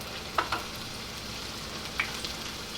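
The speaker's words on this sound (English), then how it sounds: "In my pan here, I've just got about a tablespoon of butter and about 2 to 3 tablespoons of olive oil. So I'm going to go ahead and add in my tomatoes." Tomatoes hit a pan of hot butter and olive oil and fry with a steady, close sizzle, with a few brief louder pops and stirring clicks over the constant hiss.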